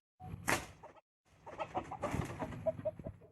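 A chicken in a coop squawking and shrieking after a crossbow bolt misses it, a sharp cry followed by a burst of agitated clucks and squawks, close and fairly faint.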